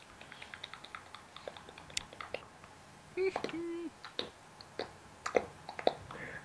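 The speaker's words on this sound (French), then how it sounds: "C'est simplement quand je tire ma joue et que je la lâche" A series of small wet pops and clicks from a cheek being pulled and released, repeated irregularly, close up, with a few louder smacks in the middle; no talking.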